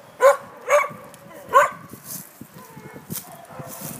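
Dogs barking in an outdoor kennel: three loud, distinct barks in the first two seconds, then quieter yips and scattered barking with background rustle, no speech.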